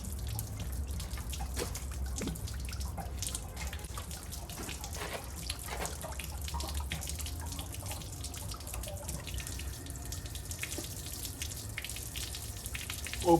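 Water draining from an RV's plumbing nozzle during winterizing: faint trickling and irregular drips and splashes over a low background hum, quiet and continuous, without speech.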